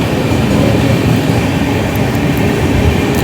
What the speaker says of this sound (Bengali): আর এখন কিন্তু ব্যারাকপুর স্টেশন পার করছে রাধিকাপুর এক্সপ্রেস